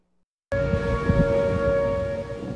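A warning siren starts abruptly after a short silence and holds a steady sustained tone, loud and continuous to the end.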